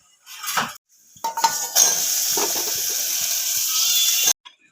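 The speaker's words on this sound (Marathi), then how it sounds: "अंडी घातल्यात गॅसवर शिजत, आता त्याच्यावर झाकण ठेवून घेऊ।" A metal lid set onto a pot of farm chicken eggs boiling on a gas stove, a few sharp clinks and clatters followed by a steady watery hiss, close and fairly loud with no talk.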